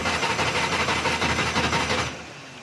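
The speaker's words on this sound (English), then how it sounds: "so what I do is crank it over a bit just to get some oil around it again" The engine of Colin McRae's Metro 6R4 rally car cranks over on the starter without firing, a steady rhythmic churning with regular pulses that drops away abruptly near the end.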